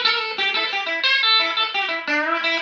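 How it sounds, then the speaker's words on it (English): Silvertone 1449 reissue electric guitar with Mojo Lipstick tube pickups, played on the bridge pickup with no reverb: a run of short, bright picked licks, notes ringing one after another at steady loudness, nothing else heard. "I'm going to play a few licks. I'm going to start with the bridge pickup."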